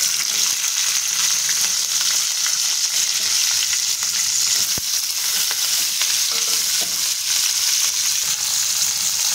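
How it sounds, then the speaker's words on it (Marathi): Chopped green chillies fry in hot oil with asafoetida, giving a loud, continuous sizzle from close by with faint stirring scrapes underneath and no talking. "तेलामध्ये आपण थोडं हिंग टाकून घेऊयात आणि ज्या आपण चिरून घेतलेल्या मिरच्या आहेत त्या टाकायच्या"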